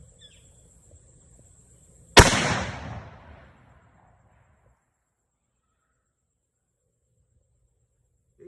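A single sharp crack from a Savage Axis II XP rifle fired at a range, followed by a short decaying echo and then quiet.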